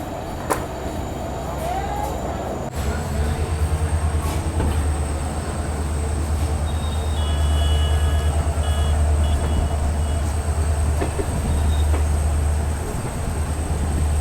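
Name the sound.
Manas Rhino passenger train locomotive at Kamakhya station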